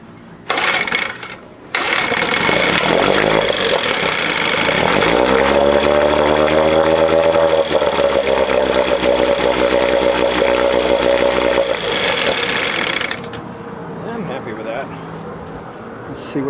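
A 1968 Johnson 6hp outboard motor starts and runs loudly up close, with a steady rattling drone that shifts pitch as it settles, then drops to a quieter idle before cutting off.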